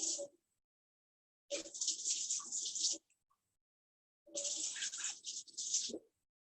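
Water runs from a tap into a half-cup measure for a stovetop recipe, two separate bursts of hissing, splashing flow, each lasting about one to two seconds, with quiet gaps between and no talk.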